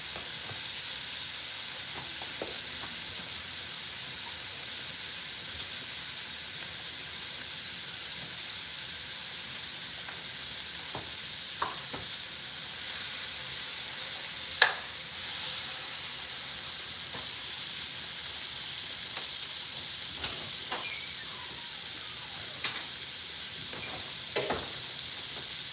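Butter sizzling in a pan, a continuous steady hiss with faint crackles and a few sharper pops and clicks over a long stretch, near and even in level, with no talk.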